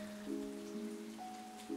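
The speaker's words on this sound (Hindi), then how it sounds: "तभी तेज बारिश शुरू हो जाती है।" Heavy rain falling in a Hindi-dubbed Malayalam film scene: a soft steady patter of rain, faint and even, with sustained musical tones layered over it and no speech.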